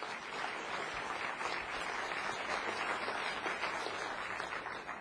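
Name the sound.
audience applause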